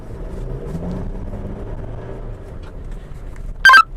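Chevrolet S10 Z71 pickup on a GM proving ground test track, its engine note a steady low rumble as it pulls uphill, ending in a brief sharp high beep.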